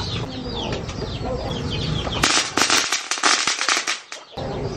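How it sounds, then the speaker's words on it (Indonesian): A firecracker goes off outdoors at dusk, a sharp loud burst followed by a rapid crackling string of pops over about two seconds, with background ambience before and after. "Gua tes petasannya."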